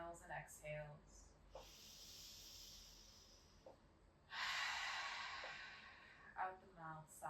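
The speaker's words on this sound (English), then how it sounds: "Maybe take some big inhales and exhales." Someone in a quiet room during an evening hatha yoga session takes slow, deep breaths, two long airy breaths sounding loud and close, with a little soft speech at the start and end.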